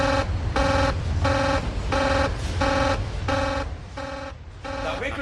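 Alarm buzzer in a nuclear power plant control room, sounding in a steady series of about eight evenly spaced, loud harmonic pulses with short gaps, over a low background rumble.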